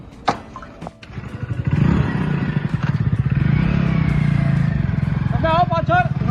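A motorcycle engine starts up and rides off with a throaty revving roar that builds and then holds. Loud thumps come first, and people talk over the engine in a Gujarati horror film scene.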